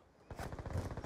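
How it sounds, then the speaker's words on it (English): A rapid rattling burst rising fast from a Death Machine minigun in Black Ops 2, loud and close, fast repeated pulses quickly following a quiet start. "Friendly death machine spinning up"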